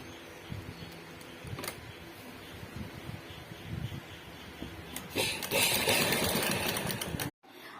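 Sewing machine stitching palazzo pants, running as a continuous mechanical whir that grows louder and busier near the end before stopping abruptly.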